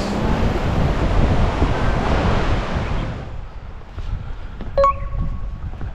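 A mountain river in a highland marsh flows outdoors with a loud, steady broadband rush that fades partway through, leaving a quieter outdoor background with a few brief sharp tones near the end.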